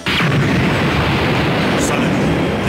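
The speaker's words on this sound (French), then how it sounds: "Explosion rang out from the heart of the city" A large explosion erupts in the Dragon Ball Z Budokai Tenkaichi 2 video game as androids rampage through a city, a dense, sustained roaring blast that fills the whole moment, loud and close, with a brief bright burst near the end.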